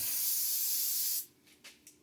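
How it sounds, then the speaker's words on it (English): A steady, loud spray of silicone lubricant from an aerosol can hisses for about a second, then cuts off, followed by a few faint short rustles. "if you just spray like some silicone on those rubber grommets"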